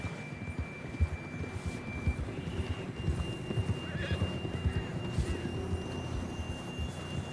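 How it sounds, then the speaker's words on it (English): Horse hooves clip-clop at a steady walking pace while a horse whinnies, over a faint constant hum, in the video game Red Dead Redemption 2. "John was riding that horse when we left Blackwater."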